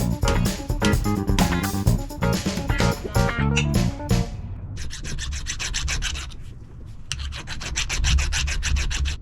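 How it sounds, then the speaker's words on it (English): A file works the serrated edge of a suspension bolt during a trailer equalizer install, giving loud, close, repeated rasping strokes that fall into an even rhythm in the second half. "we're gonna file the serrated edge of the bolt, make sure that the shoulder protrudes all the way through"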